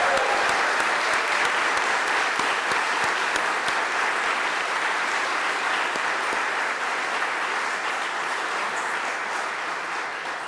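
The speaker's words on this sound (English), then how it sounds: "can all of us give the loudest round of applause for our honorees" An awards ceremony audience breaks into loud, sustained applause for the honorees, a dense wash of clapping from a large crowd that holds steady throughout and eases only slightly near the end.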